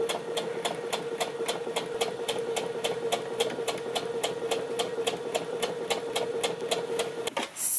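Sewing machine stitching the neckline of a 1950s vintage-style dress, a fast, even run of needle clicks over a steady motor hum, close and continuous before stopping abruptly.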